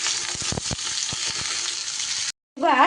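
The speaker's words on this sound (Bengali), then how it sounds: "তারপর এর মধ্যে ঝিঙে আর ডাঁটাগুলো কিন্তু দিয়ে দিলাম।" Ridge gourd pieces and vegetable stems sizzle steadily in hot oil while being stirred, with soft scraping taps from the spatula; the frying cuts out briefly before a voice begins speaking at the end.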